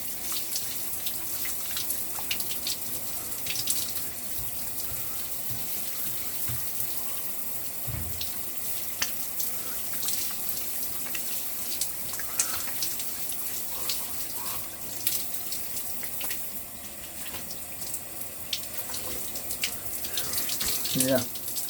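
Shower water runs steadily and close by for the whole stretch, a constant hiss with faint splashes and drips as someone washes their face, hair and beard with liquid black soap.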